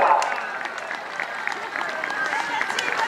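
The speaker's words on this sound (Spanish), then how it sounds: "Venga, practicamos palmas otra vez" Spectators clap hands in rhythm to cheer runners at a popular town road race in Meaño, steady crisp claps close by over crowd chatter, with someone talking through them.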